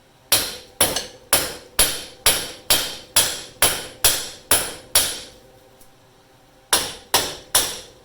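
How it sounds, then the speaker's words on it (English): Hammer blows strike a steel ball joint on a 1997 Honda Recon 250 ATV, in an even series of about ten sharp metallic smacks, a pause, then two more, loud and close with no talk. "We're going to give it a couple smacks the old school way."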